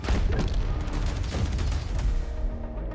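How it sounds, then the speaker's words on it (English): Mortar strikes land in a modern-day Battlefield 6 war game trailer, with heavy booming impacts and rumbling blasts layered over each other. The explosions are loud and continuous, with several sharp hits standing out from the roar. "You got the mortar strikes."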